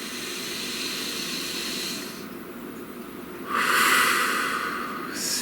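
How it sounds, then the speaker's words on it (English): A slow, deep breath drawn in and let out close to the microphone, with an airy hiss that swells into a louder exhale partway through. "Please take a nice deep breath."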